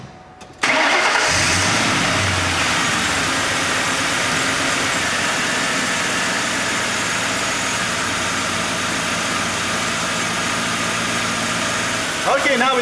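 A car engine cranks and catches, then runs at a steady, fairly loud idle close up during an alternator charging test, with a voice speaking over it near the end.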